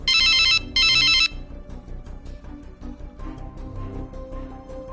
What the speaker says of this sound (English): Sonia's phone started ringing again